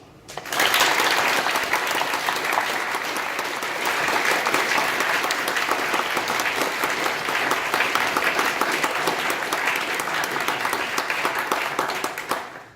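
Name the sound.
audience applause at awards ceremony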